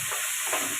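Tomato and onion masala with salt sizzling in a pan for vaghareli khichdi, a steady close frying hiss broken by a soft scrape as it is stirred.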